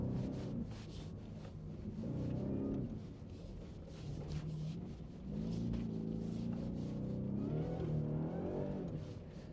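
Ford F-150 Raptor pickup driving off-road in Baja mode, its engine rumbling steadily and rising in brief revving surges, fairly close and loud throughout with no talk.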